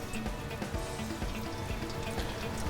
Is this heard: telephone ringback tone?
no